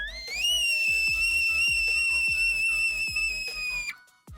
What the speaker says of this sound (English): getting pushed through this tiny little hole and making a whistling sound